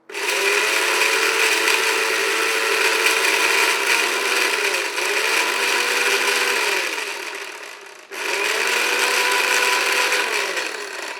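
An electric grinder blends garlic, green chilli, cinnamon, fried nuts and fried chickpeas into a paste, whirring loudly and steadily in two long bursts separated by a brief stop.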